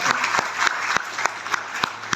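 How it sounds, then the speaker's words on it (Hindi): Audience applause at a seminar, a steady wash of many hands clapping throughout the short stretch with no voices over it. "तो उनके लिए जोरदार ताली चाहते हैं"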